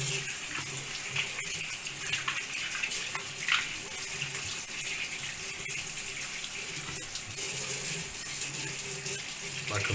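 CO2 diffuser parts washed under a running tap, a steady close gush of water with faint rattling of the pieces, no speech over it.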